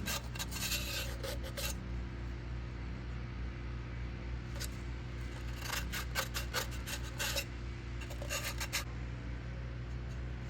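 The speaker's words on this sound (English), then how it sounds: "We're just taking the burrs out of it," A file taking burrs off a metal part of F600 hub and rear brake work, heard as bursts of quick rasping strokes over a steady low background hum, close-up and without talk.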